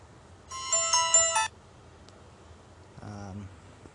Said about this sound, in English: you can choose the ringtone when an attack is detected